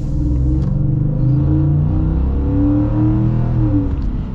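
A 2023 Ford F-150 XL work truck with a 5.0 V8 revs loudly and steadily up close, its deep engine note rising and holding through the whole stretch, no voices over it.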